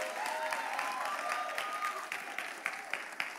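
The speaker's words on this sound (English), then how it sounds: "Now we have used some moments to clap" A church congregation claps steadily, the applause soft and somewhat distant, with individual claps growing sharper toward the end.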